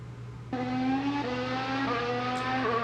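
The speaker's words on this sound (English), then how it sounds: "The sound of the F1 cars, the sound of the cars is so sick." Formula 1 race car engines from 2019 Grand Prix overtakes, including Lewis Hamilton's. A loud, high-pitched, sustained engine whine starts suddenly, then rises and drops pitch through several gear shifts, with a steady lower drone beneath it.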